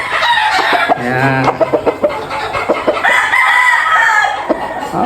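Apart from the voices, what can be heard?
gamefowl roosters crowing and clucking on a farm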